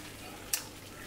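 Food being stirred in a cooking pot at home, one brief scraping clink over a steady low background hiss.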